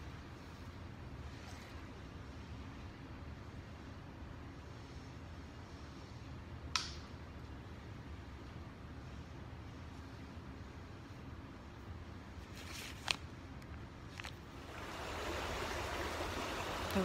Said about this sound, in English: The river looks so beautiful right now.